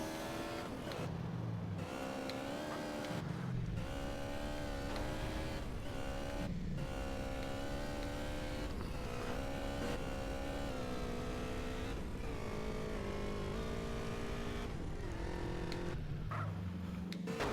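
Motorbike engine running steadily through a ride in GTA San Andreas Definitive Edition on Switch, a continuous loud droning tone with pitch shifts, overlaid by game music, with no talk.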